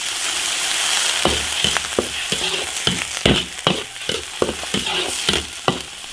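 Seasonings sizzle steadily in a wok while a spatula scrapes and knocks against the iron in an irregular rhythm of sharp clacks. The stir-fry is close, loud and continuous, with no one speaking.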